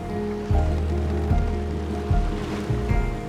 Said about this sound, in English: we sail in the afternoon towards Ittoqqortoormiit